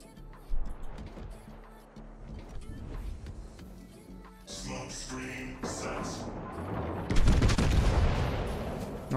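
The battleship Cristoforo Colombo fires its guns in a naval video game: scattered thuds and crackles build to a heavy, rumbling low boom near the end, with engine-like background noise throughout.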